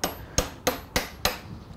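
Five sharp, evenly spaced hammer blows knock aluminum angle profiles into place on a heavy wooden workbench, each a crisp metallic strike with a short ringing decay, close and clear with no talking.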